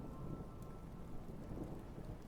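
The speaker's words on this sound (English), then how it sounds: "Thunder begins to rumble overhead" Steady rain hisses with a low, continuous rumble of thunder beneath it, dense and enveloping throughout. No voices.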